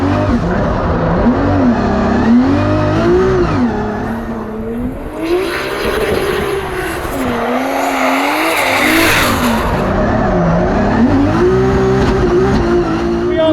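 A Formula Drift car is driven hard around a tight course. Its engine revs rise and fall in repeated cycles, and the tires squeal and skid through the turns. The sound is loud and close throughout.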